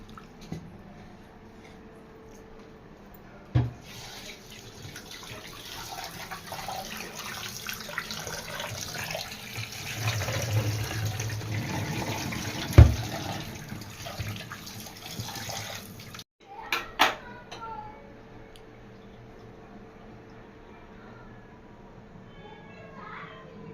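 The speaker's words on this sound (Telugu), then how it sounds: "పసుపు వేసి కడుగుతా కదా, అట్లా కడిగేస్తే" Raw chicken is washed with turmeric under running tap water in a kitchen, with a steady stream splashing and squelching for several seconds, a few sharp knocks, and someone talking over it.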